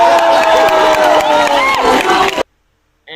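A big crowd roars and cheers with whoops and shouts rising over a dense wall of noise for over two seconds at the Tobey Maguire Spider-Man reveal, then cuts to silence before a brief return of sound.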